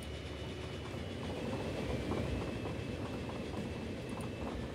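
A train rolls into a station in the Transport Fever video game, a steady rumble with rhythmic clickety-clack of wheels over rail joints and a faint high squeal, building slightly then holding.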